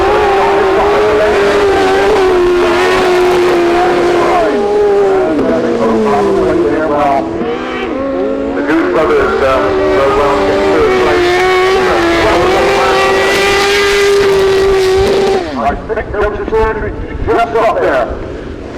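Race cars at Danebury circuit in 2013 scream toward the checkered flag. Loud engines hold steady, rising and falling pitches as they rev close by, with a commentator talking over the racing the whole time.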